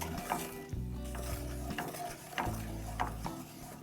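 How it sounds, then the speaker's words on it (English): Brown sugar caramelizes in a pot for braised short ribs, with a soft sizzle under close scraping stirs and light knocks, over a low steady hum. "I'm just going to put it in here and caramelize it"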